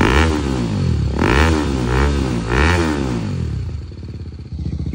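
A motorcycle fitted with a Yoshimura R77 exhaust blips through three heavy, deep rev bursts close by, then settles into a rough, lumpy idle.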